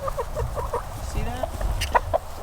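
Hens clucking in a pen, a few short soft calls spread through the clip beneath a man's nearby speech and low background noise.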